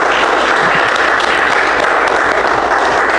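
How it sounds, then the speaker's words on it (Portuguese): A church congregation gives sustained applause during a worship service, a dense, loud, even wash of clapping with no clear breaks and no audible speech. "O Senhor Jesus, uma linda salva de palmas."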